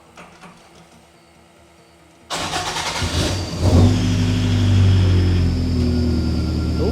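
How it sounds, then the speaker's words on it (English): A Toyota AE86 engine cranks and fires into a loud, close idle after a quiet start, then the revs rise and settle into a steady rumbling run, with a brief exclamation from a voice. "we're gonna fire the car up and see what happens."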